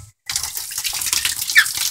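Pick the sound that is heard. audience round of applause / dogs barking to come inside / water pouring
water pouring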